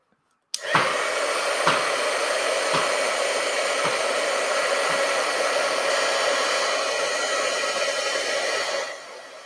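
A hair dryer switches on abruptly and blows steadily for about eight seconds to dry a watercolor painting, a loud, even whoosh with a motor hum that tapers off as it cuts out.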